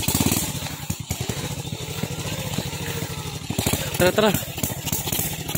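Motorcycle engine buzzes and putters close by while riding on sand, with several people talking and calling out over it throughout.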